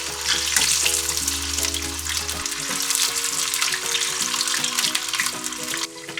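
Patties fry in a pan over medium heat with a loud, steady, close-up sizzle and crackle that runs throughout, over a low hum that cuts out partway through.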